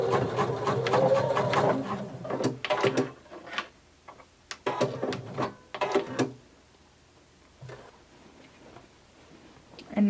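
A sewing machine stitches a half-inch hem around the curved edge of a pair of shorts, running in several short bursts with pauses in between, close and fairly loud, with quieter gaps near the end.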